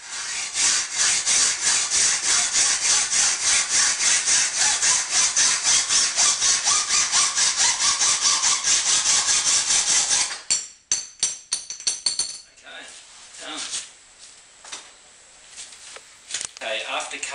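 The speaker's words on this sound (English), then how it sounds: "put your mark on your tape and then you just use a hacksaw" A hacksaw cuts through a SUP paddle shaft in fast, steady back-and-forth strokes for about ten seconds, then stops, leaving scattered clicks and handling noises up close.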